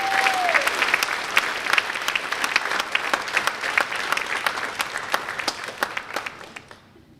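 An audience at an athletic honors and awards ceremony gives a round of applause for the men's soccer seniors, with dense, crisp clapping close by that holds steady and then fades out toward the end.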